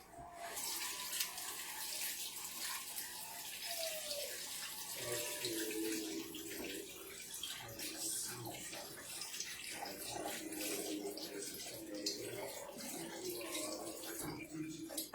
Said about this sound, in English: Let me just wash my hands real quick so I can show you